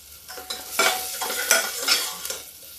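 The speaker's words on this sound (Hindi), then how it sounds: "प्याज भुन गया है।" Onions fry in a pan, with several quick stirring scrapes rising over a soft sizzle across a few seconds, close and fairly loud.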